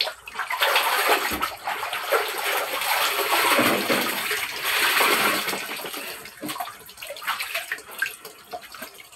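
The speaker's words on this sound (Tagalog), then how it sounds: "Hinay agas sa tubig guys." Water poured and splashing into a basin during hand-washing of laundry such as t-shirts and curtains, a steady close gush with splatter that rises and falls for several seconds, no talk over it.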